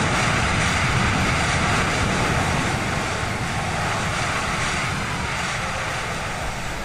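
A Boeing 737 MAX jet engine in Microsoft Flight Simulator, flown through a hurricane, produces a steady, unbroken roaring drone with a windy hiss layered over it throughout.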